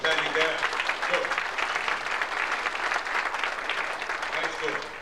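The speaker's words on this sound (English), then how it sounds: "And I think he needs another round of applause." A theatre audience breaks into a round of applause, a thick continuous clatter of many hands that stays loud throughout, with faint voices underneath.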